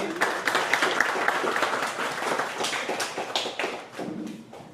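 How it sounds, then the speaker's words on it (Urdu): A crowd applauds steadily, dense clapping that holds for several seconds before tapering off. "بہت ساری تالیاں"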